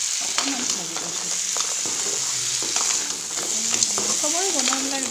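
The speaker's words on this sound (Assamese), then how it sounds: "কেঁকুৰাখিনি ঢালি দিলোঁ অকণমান ভাজি লৈছোঁ" Crab pieces sizzle in a hot pan for an Assamese crab dish made with mesta tenga, a steady close frying hiss with stirring scrapes and faint voices underneath.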